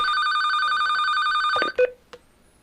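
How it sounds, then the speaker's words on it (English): A telephone rings with an incoming call during a live talk show, a steady trilling electronic tone that cuts off abruptly and is followed by a couple of faint clicks as the line is picked up. "Oh, we got a phone call. We have a phone call."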